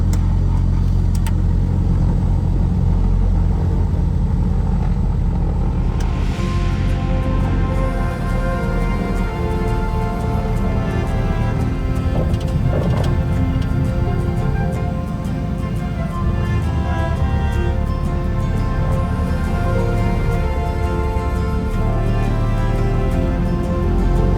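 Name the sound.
small airliner engines running while taxiing to runway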